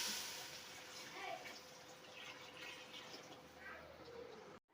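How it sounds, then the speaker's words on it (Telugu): Water being poured from a vessel into a pot of about a kilo of rice for Hyderabadi chicken bagara rice, a soft, steady splashing pour that stops abruptly. "గిన్నెల నీళ్ళు పోస్తున్నా."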